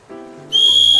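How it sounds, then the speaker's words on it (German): Inside a video game called Anime Fart Simulator, a character gives a short whistle that is loud and clear: a low tone followed by a bright, sustained high note, with no other sound around it. "So, jetzt pfeift doch mal wer."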